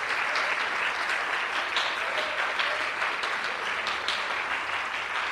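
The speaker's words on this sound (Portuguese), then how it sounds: "Vamos aplaudir mais o Senhor Jesus." Church congregation applauding the Lord Jesus, dense, loud, continuous clapping from many people filling the whole stretch without letup.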